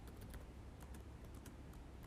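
Quiet, rapid clicking of keys on a computer keyboard, a steady run of light taps close by.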